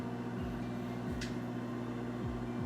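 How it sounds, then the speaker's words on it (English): A steady low mechanical hum with a faint periodic dip from a microwave oven cooking a box of cauliflower rice, close by with no talking. "I just put my first box of cauliflower rice in the microwave"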